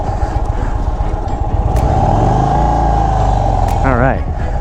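A 2024 Indian Sport Chief motorcycle pulls away with a steady engine drone that rises slightly as it gets under way, heard close up under wind rush, with a voice speaking briefly near the end.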